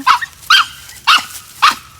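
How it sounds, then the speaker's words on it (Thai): A dog in a forest barks at a large long-tailed turtle, four sharp, loud, close barks spaced at a steady rhythm with no talking over them. "ไม่เห่าไม่ว่าเห่าอะไร เขาเจอเต่าค่ะ"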